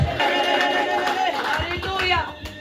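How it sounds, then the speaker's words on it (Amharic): A church congregation claps in a loud burst mixed with raised voices and shouting, the applause thinning toward the end. "የለንታ ጭብጨባ ለኢየሱስ"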